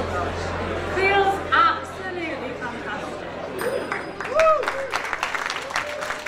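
A studio audience applauds with scattered clapping and cheering, mixed with overlapping voices and chatter rising in short bursts across the clip.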